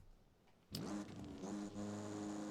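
A car engine in Forza Horizon 5, just fitted with a new exhaust, fires up abruptly after a quiet start and revs hard with a loud, raspy, rising roar that dips briefly and then climbs again.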